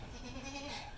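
A male goat, a crossbred buck, lets out a single drawn-out bleat. It sounds faint but clear and lasts about a second.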